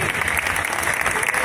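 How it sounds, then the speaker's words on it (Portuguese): Dense, continuous audience applause fills an outdoor concert at the Festas do Bom Jesus, a crowd clapping loudly together without pause. "queria pedir uma grande salva de palmas também a toda a gente que está aqui presente"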